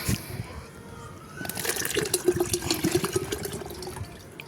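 Water pours from an opened young pandan coconut into a container, a soft uneven trickle that grows louder and splashier about halfway through, with a little faint background noise.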